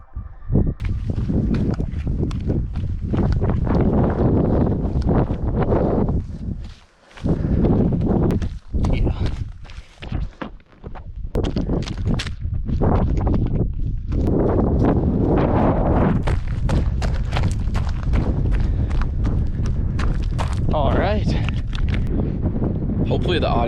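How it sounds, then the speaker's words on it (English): Strong gusting wind buffets the microphone on the summit of Baldy during a mountain run, with loud continuous roaring and brief lulls, heard close and overwhelming throughout. "it's pretty windy up here"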